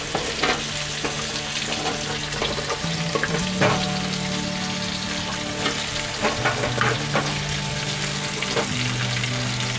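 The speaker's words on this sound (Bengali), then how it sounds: "অন্য সবজিগুলো এবারে আমি একসঙ্গেই ভাজবো" Mixed vegetables for shukto fry in oil with bay leaf and tempering spices, producing a dense continuous sizzle with intermittent stirring scrapes and clatter close by, no speech.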